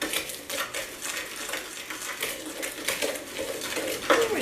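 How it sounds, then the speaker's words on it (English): Dry Christmas spices for an apple cider seasoning are stirred in a bowl, a soft, steady run of scraping and light clinking from the utensil against the dish, close and fairly quiet. "We're just going to mix it up a little bit."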